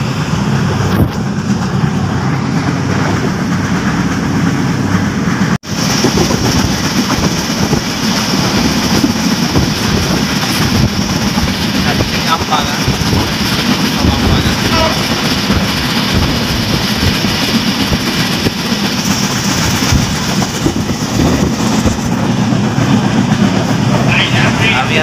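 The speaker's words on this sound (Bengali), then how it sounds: "যাচ্ছি ট্রেনের যাত্রা আপনারা দেখছেন, পুরো ট্রেন চলছে রানিং অবস্থা" A running train fills the space with a loud, steady rumble and rattle that carries on almost without a break for the whole stretch.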